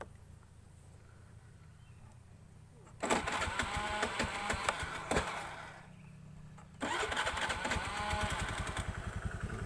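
A motorcycle with a fingerprint alarm system is started twice with the manual starter: after a quiet idle stretch, each start cranks and catches into a loud, close engine run, with talk heard between.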